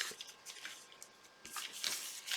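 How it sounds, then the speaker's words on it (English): Paper being torn in short ripping bursts, a few quick tears close by with brief pauses between them, with no voices. "when I want to tear a piece off"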